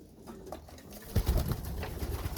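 Young racing pigeons in a loft coo softly, with a burst of low throaty cooing and some wing shuffling after a quieter start, close by and with no voices.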